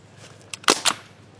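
A Crosman 1077 air rifle fires a few sharp, close snapping shots, with one louder crack in the middle and a smaller pop just before and after, over a quiet background.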